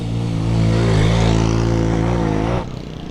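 A Burmese motorbike rides past on a village road in Longwa, Nagaland, its engine loud and close with a steady droning hum that swells and then drops away suddenly as it goes by.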